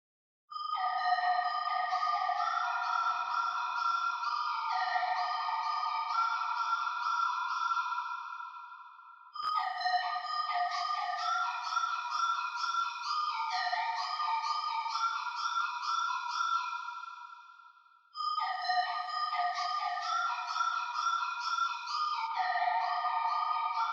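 A bright, tonal synthesized phrase rings out three times in long repeating passes, each note trailing into a wide, echoing reverb tail.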